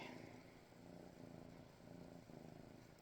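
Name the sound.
cat purring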